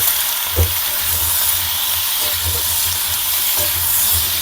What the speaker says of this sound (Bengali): খুব ভালো করে লাল লাল করে পটলগুলো সব ভেজে নেব।